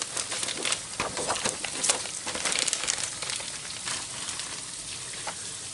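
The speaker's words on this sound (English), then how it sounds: "It's raining, but I got a nice breeze going on," Steady rain falling just outside an open window, a dense broadband patter and hiss with scattered louder drops, continuous and fairly close, with no voices.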